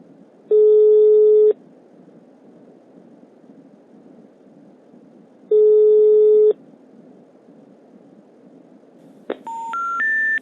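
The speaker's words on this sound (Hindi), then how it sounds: "गाइस स्वीट का कॉल नहीं लग रहा है, शायद उसका मोबाइल स्विच ऑफ हो गया होगा" Phone call failing to connect in the video game GTA San Andreas: two long steady busy-signal tones separated by silence, then a rising three-note error jingle at the end, loud and clear with no talking.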